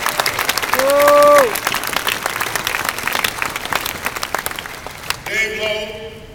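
Audience applause at a union chapter conference in San José: steady, dense clapping from a large crowd, with cheers and whoops rising over it and a voice at the end.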